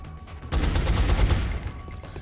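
Burst of gunfire in the strategy game XCOM on Impossible Ironman difficulty, a loud sustained volley of rapid shots starting after a brief quiet moment and rolling on without any voices.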